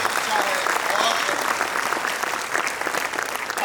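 An audience at a Hindi poetry recital claps in a dense, continuous burst of applause, steady and fairly loud throughout.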